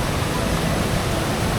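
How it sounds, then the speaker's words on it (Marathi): A rain-swollen waterfall near farm fields roars continuously and loudly, a dense steady rush of water throughout. "यो पहा धबधबा, यो पहा."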